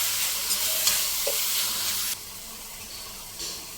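Vegetables sautéed with salt in a pan for egg roll filling give a loud, continuous sizzle with scraping stirs, then drop to a quieter frying hiss partway through, followed by another brief stir.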